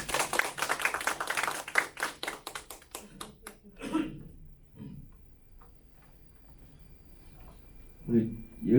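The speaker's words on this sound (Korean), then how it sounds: "우리 열심히 택강을 해주신 김기호 사장님께 다시 한번 뜨거운 박수 부탁드리겠습니다." After a lecture, an audience gives a round of brisk, close clapping that thins out into a few scattered claps, followed by someone speaking.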